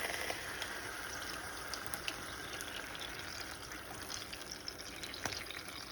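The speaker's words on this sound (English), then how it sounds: "we're gonna add about 14 ounces of these crushed tomatoes" Canned crushed tomatoes, about 14 ounces, poured into a pan in a kitchen, giving a soft continuous wet pouring and trickling sound at moderate level with no one talking.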